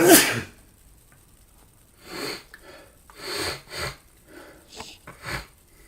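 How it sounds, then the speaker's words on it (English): A single close, sharp sneeze bursts out at the start, followed by a few quieter sniffs and rustling noises with silence between them. "Oh crap, I'm gonna sneeze."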